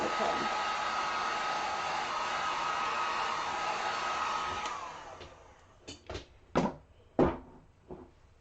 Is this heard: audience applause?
no